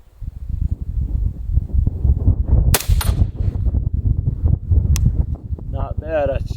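A .308 rifle with a 16-inch barrel, PSA M110-style, fires a single sharp crack amid steady gusting wind noise on an outdoor range. A voice speaks briefly near the end.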